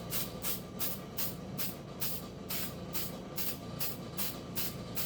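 An aerosol can sprays sealant onto the outside of a John Deere Z445 engine part in rhythmic short hissing bursts, close and fairly soft, with no voices.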